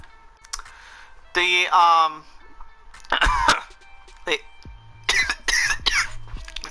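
A person coughs loudly several times in close, rough bursts, with a voice speaking and light clicking between the coughs.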